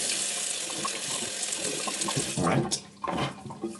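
Tap water runs into a bathroom sink before shaving, a continuous close splashing stream that briefly drops off and resumes near the end, with a short spoken word over it.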